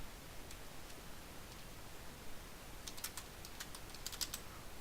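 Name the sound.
typing code on a computer keyboard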